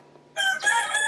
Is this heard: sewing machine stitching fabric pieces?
no